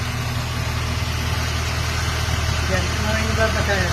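A Toyota Vios car engine idles roughly and steadily at close range, a low continuous rumble with an uneven pulse running through the whole stretch, with no talk.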